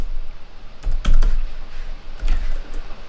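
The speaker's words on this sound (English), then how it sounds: "so I can really quick type input" Typing on a computer keyboard, soft close keystrokes in two short bursts with pauses between.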